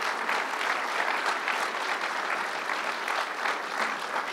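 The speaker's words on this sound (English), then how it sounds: "Let's give Calvin a big round of applause" Steady applause from a large crowd at a political event, dense clapping that holds at an even level throughout with no voices standing out.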